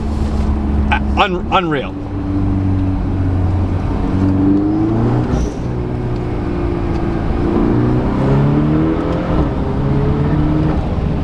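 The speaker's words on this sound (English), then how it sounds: "you hear the flutter of the intake, the pops, and the blow-off valve" A VW Golf R MK8 with a Forge blow-off valve revs hard, turbo intake fluttering and pops crackling between rising and falling engine notes, loud and close, with a brief spoken exclamation.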